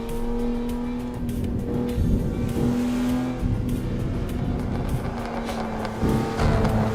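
Car engines in a driving video game with BMWs close by, a loud continuous engine drone with shifting revs and occasional tire noise, steady and near, no talking.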